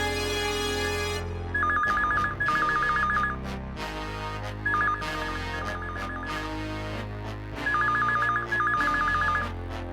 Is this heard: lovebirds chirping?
no